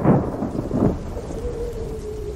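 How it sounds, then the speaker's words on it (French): Deep rolling thunder rumbles over dense, steady rain and hail, the loudest crashes coming at the start before settling into a continuous downpour. "Le ciel, couvert d'affreux nuages, fondait en grêle. Le tonnerre grondait."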